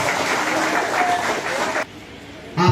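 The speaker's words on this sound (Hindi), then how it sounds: "तो एक बार आप अपने लिए कस के जोरदार ताली बजाइए" Strong, loud applause from students and staff at a Teacher's Day celebration in a school hall, a sustained wash of clapping that cuts off suddenly, leaving a quiet room before a voice starts.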